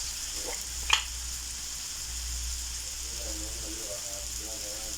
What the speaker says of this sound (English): So now we will mix everything up until you keep tossing until the potatoes cook.